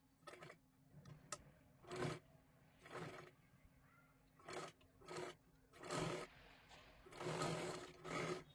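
Sewing machine stitching lace along the side of a blouse sleeve, running in repeated short loud bursts with brief pauses between them, close to the microphone.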